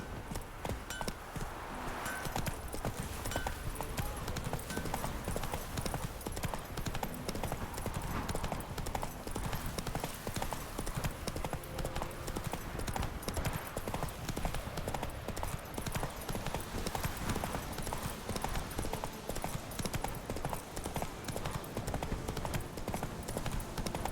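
A horse named Roach trotting along, with hooves clip-clopping in a fast, steady rhythm that stays close and loud throughout, and a voice coming in faintly now and then.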